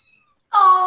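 A single kitten meows after near silence, a short, loud, close call that rises, holds and fades off.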